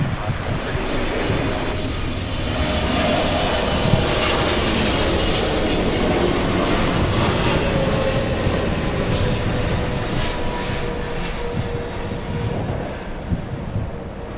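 An airliner takes off from runway 24 left at Los Angeles International Airport, its engine roar loud, broad and steady throughout, rising slightly then holding without a break.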